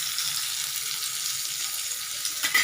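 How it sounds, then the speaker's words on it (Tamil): Elephant foot yam fries in plenty of oil over a low flame, giving an even, soft hiss that stays close and constant with no talking. "கொஞ்சம் எண்ணெய் நல்லா ஊற்றிக்கங்க, அப்போ தான் ஃப்ரை நல்லா ஆகும்."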